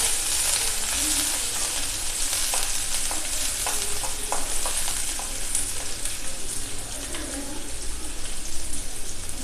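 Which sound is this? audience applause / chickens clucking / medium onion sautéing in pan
medium onion sautéing in pan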